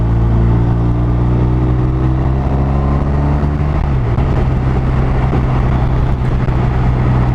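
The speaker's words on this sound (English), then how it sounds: "Now I'm on the BMW R1250 RT, which is the 2019 model." A 2019 BMW R1250 RT motorcycle engine drones loudly and steadily while riding, with a low hum that drops in pitch midway through, under constant wind noise.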